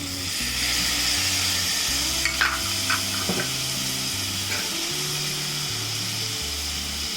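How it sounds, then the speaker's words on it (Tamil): Vegetables sizzle and fry steadily in a pan for a Maggi samosa filling of cabbage, capsicum, tomato and carrot, with an occasional stir or scrape against the pan and a low musical tone running underneath. "இப்போ நல்லா கொஞ்சம் ஃப்ரை ஆகட்டும்"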